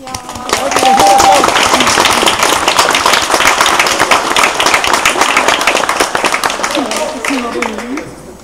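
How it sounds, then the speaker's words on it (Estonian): Loud, close clapping from an audience applauding Ott at the opening of an arena, dense and sustained for several seconds with voices mixed in before it thins out. "Kõigepealt aplaus Otile"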